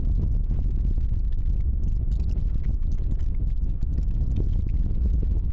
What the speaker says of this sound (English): That's the wind blowing.